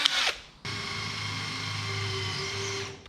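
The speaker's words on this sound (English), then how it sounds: "So I'm gonna drill us a through hole where I want it." A power drill bores a through hole in metal during truck bedside prep work, with a short burst, then a brief pause, followed by a loud, steady whine lasting nearly three seconds, close up.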